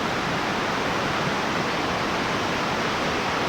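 A waterfall and lapping waves at Plitvice Lakes make a constant, dense broadband rush that stays loud and unbroken throughout, with no voices over it.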